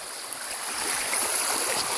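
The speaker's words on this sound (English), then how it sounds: "this is pretty much the start of the waterfall on the lake" Steady broadband rush of the waterfall at Lake Jordan, close and continuous, filling the whole stretch without pause or voices.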